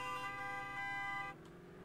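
Car horn honking in the game Totally Accurate Battlegrounds, a steady multi-tone blare held for over a second before cutting off, leaving a low engine hum beneath.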